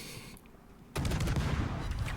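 Ship guns fire in World of Warships, a sudden burst of heavy booming naval gunfire that breaks in after a quiet moment and rolls on as a dense, rumbling barrage.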